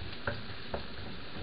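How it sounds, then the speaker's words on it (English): Onions sautéing in oil with chili in a pan, a steady soft sizzle with a couple of light stirring scrapes. "What I'm doing is sauteing the onions"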